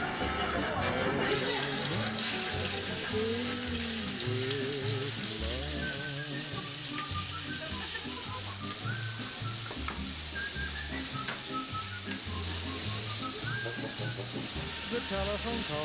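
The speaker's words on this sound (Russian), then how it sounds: "приступим к жарке" Steady, loud sizzling and crackling of food frying in a hot pan at about 180 degrees, with occasional stirring scrapes and music playing underneath throughout.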